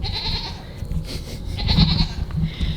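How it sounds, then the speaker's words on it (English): Goats bleat repeatedly nearby, several loud, wavering cries in close succession over a rustling outdoor background. "We listened to the goats."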